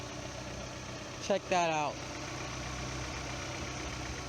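A 1999 Honda Prelude engine idles smoothly with a steady, even low hum throughout, and someone speaks briefly over it near the start.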